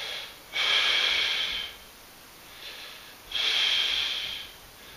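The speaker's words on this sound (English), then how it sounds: "I breathe out as I do it." Two long, breathy exhalations from a person holding a seated thoracic stretch with one shoulder dropped toward the ground. Each breath is steady and close, separated by a quieter pause.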